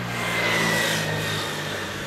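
A 2017 Kawasaki Z1000 R Edition fitted with an Akrapovic aftermarket exhaust, its engine running: a continuous throaty drone holding steady and loud throughout, close by.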